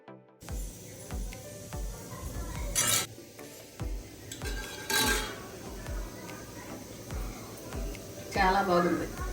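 Tamarind pulusu is mixed by hand with onions, turmeric, curry leaves and jaggery, producing close squelching and scraping in a vessel with repeated clinks of metal, while someone talks over it.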